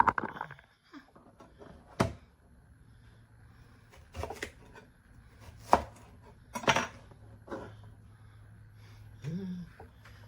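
An onion chopped with a knife on a cutting board in a home kitchen: several sharp, separate knife knocks at uneven intervals, close and clear against quiet kitchen background, with faint voice sounds.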